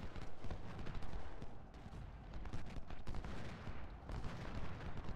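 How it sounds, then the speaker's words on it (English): Artillery fire rolls across a Civil War battlefield in Ultimate General: Civil War, a dense, continuous barrage of cracking and thudding shots, fairly faint and unbroken throughout. "The Federal artillery is just too strong."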